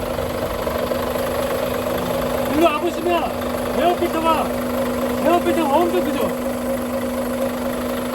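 A Kia Granbird charter bus with a truck-type diesel engine of over 10,000cc idles with a steady, loud hum and low drone, while someone talks over it close by.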